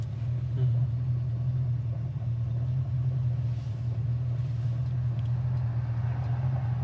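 A 1965 Ford Mustang coupe engine idles steadily with a deep, even low rumble that holds constant throughout, fairly close and without any revving.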